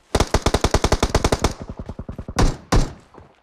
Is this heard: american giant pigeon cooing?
no